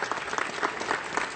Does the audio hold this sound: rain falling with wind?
no